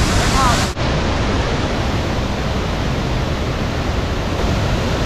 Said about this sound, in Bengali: জলের ফ্লোটা দেখুন এখানে, মানে ভিজে যেতে হবে।